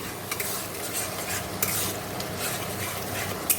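Meat masala being stir-fried in a pan, with a steady close sizzle and frying hiss and a few sharp scrapes of a utensil against the pan, no talk.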